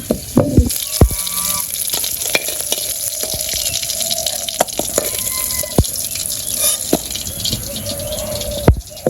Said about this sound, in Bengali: তো আমার মাছ ভাজা হয়ে গেছে